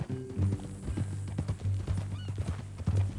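A new horse walking in Red Dead Redemption 2, with steady hoof clip-clops and occasional snorts over a low engine-like hum, close and moderately loud throughout.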